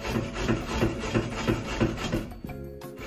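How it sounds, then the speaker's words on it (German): Peeled potatoes and beetroot rasped against a kitchen grater, a close, rhythmic scraping of quick strokes repeating roughly every third of a second, then stopping near the end. "jetzt reiben wir das mal wunderbar mit der roten Beete an"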